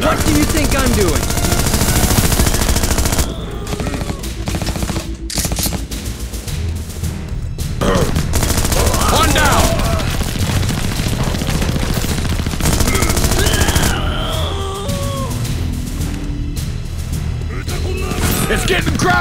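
Dense, sustained machine-gun and rifle fire rattles through a firefight in the video game Global Ops: Commando Libya, loud and continuous with bursts and booms, while voices shout over the battle.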